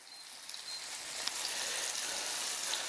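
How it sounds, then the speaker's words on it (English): Hot pan sizzling steadily at high heat, a dense hiss with faint crackles throughout, moderately close and unbroken by talk. "So hear that noise, you get that sizzle."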